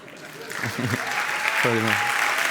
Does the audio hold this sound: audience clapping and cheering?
yes